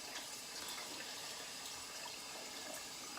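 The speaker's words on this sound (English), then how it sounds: "Typically I rinse off my brush and my soap" Running water from a faucet rinses a shaving brush and soap, a steady, faint, uninterrupted broadband rush that fills the short moment alone.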